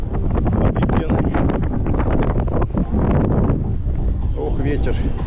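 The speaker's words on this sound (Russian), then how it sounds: "Ох, ветер тут дует." Strong wind buffets the microphone in a steady, roaring rush on the Crimean coast in April, with a faint wash of sea water in the background.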